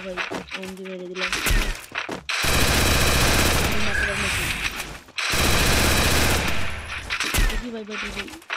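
Automatic gunfire in a shooting video game comes in two long, loud, dense bursts of rapid shots, each lasting a few seconds. Someone talks in the gaps before, between and after them.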